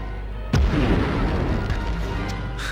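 A grenade explodes in the Medal of Honor video game, a single close, loud boom that rolls into a long rumbling decay.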